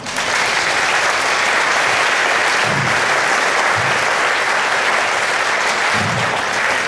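Sustained audience applause at a Swiss yodel duet's tenth-anniversary concert, dense steady clapping filling the room loudly from start to finish with no talk.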